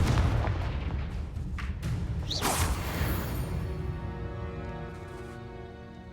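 Confringo blasting spell in Hogwarts Legacy, a sharp whooshing cast followed by a loud booming explosion that rolls and fades into a ringing tail.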